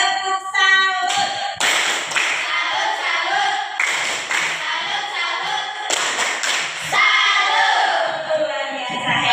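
A school class performs a tepuk salut clapping routine, with bursts of rhythmic group claps and shouts separated by short pauses, loud and close, with children's voices chanting between bursts.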